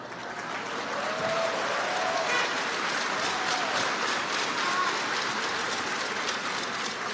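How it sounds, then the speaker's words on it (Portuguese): An audience claps continuously in a dense, even wash of applause that holds steady and fairly loud from start to finish. "are you guys clapping?"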